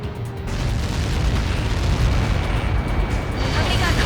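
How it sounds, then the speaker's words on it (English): A huge Helios projectile impact explosion in the Ace Combat 7 flight game, a loud sustained rumbling roar that swells after a short quieter start and keeps booming throughout. "Somebody got caught in that explosion."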